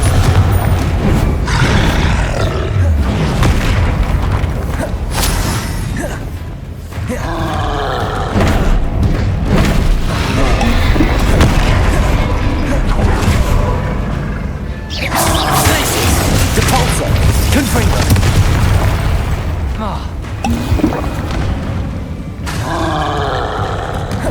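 Confringo explosive spell blasts go off again and again during Hogwarts Legacy combat, loud booms and crashes layered with rumbling effects and grunts across a long stretch.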